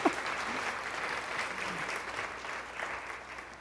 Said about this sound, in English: let's give a round of applause, yeah